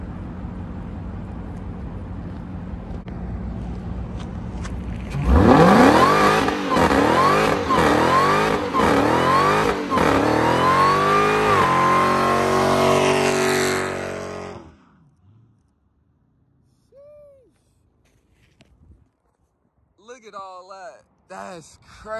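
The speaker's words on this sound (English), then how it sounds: "I got a burnout for y'all." A car does a burnout: after a quiet idle, the engine suddenly roars to high revs in repeated surging pulses with tire squeal for about nine seconds, then cuts off abruptly, followed by near silence and brief speech.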